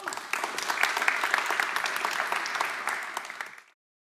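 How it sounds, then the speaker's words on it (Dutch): Steady audience applause for a speaker at a talk on internet freedom and net neutrality, a dense wash of claps lasting about three and a half seconds before cutting off to silence. "nog even een applaus voor hem"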